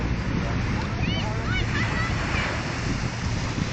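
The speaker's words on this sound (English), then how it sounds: "To prove that we're at the beach, look at the sand and the water." Beach surf washes in continuously under blustery wind noise, with a few brief higher tones drifting over the steady rush and no talk heard.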